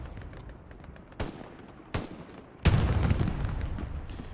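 M1 Garand rifle fire in the Hell Let Loose video game: a few sharp reports at a distance, then a louder close shot followed by sustained rumbling battle noise.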